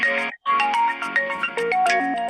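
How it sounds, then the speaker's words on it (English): A mobile phone ringtone plays a bright, repeating electronic melody during a committee meeting, loud and clear, with a brief gap near the start before the tune continues. "Someone's phone ringing, is it me?"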